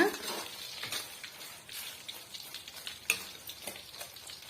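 A homemade hair-dye mixture fries and bubbles vigorously in pure coconut oil, a crackling sizzle broken by repeated spoon scrapes and stirs, moderately loud and close.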